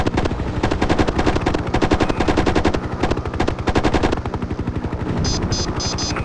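An attack helicopter's machine gun fires in the 1998 video game Hind: loud, rapid continuous bursts with a rotor-like drone beneath, easing off into a lighter hum near the end, with no talk.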